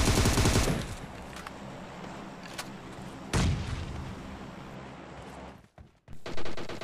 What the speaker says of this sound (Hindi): अरे फायरिंग आई, फायरिंग आई इधर से।